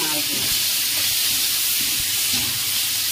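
Ginger, garlic, onion, chilli powder, turmeric, coriander and cumin hit hot oil, giving a loud, steady, close hiss and sizzle that holds without a break.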